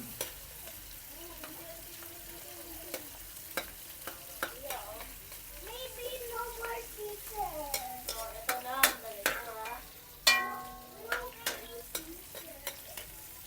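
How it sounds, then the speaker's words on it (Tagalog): Garlic sautés quietly in a pan, giving a faint, low sizzle broken by sharp clicks and scrapes as a utensil stirs it. The taps come irregularly and grow busier toward the end. "So, gisa na natin yung ating bawang."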